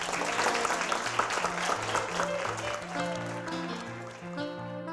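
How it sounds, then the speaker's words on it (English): An outdoor crowd applauds newly sworn-in Junior Rangers at Acadia National Park, a dense burst of clapping that carries steadily and then thins, with scattered voices mixed in. "Big round of applause."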